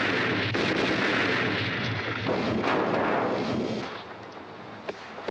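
Heavy shotgun blast from a close-range film stunt where a man with raised, tied hands is hit in the belly and slammed back against a van, heard as a loud, dense burst that sustains, then fades with a couple of small sharp hits at the end.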